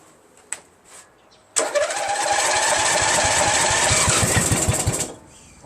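A Craftsman LT1000 42-inch hydrostatic lawn tractor with a Nikki carburetor cranks, then its small engine catches and roars steadily for several seconds at close range. The engine cuts off abruptly, leaving quiet behind.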